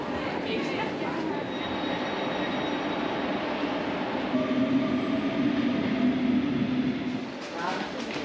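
A busy rush-hour Rotterdam metro train runs toward Schiedam Centrum, giving a steady rumbling rail roar with squealing, whining tones from the wheels and motors. Voices are heard faintly over the noise.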